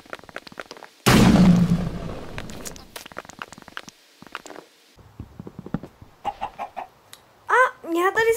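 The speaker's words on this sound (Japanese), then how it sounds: "ニワトリさんが登場しました。" Chickens cluck in Minecraft One Block Survival, a few short clucking calls coming through near the end among game sounds, with a loud burst earlier in the clip.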